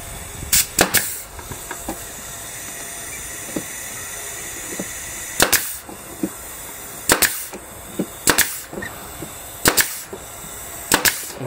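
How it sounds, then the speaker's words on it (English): A hammer drives nails diagonally into plywood while a box is built, giving sharp, loud, close strikes. They come in clusters of two or three with pauses between them and no talking. "I'm kind of nailing that diagonally so I get a nice grip on the plywood"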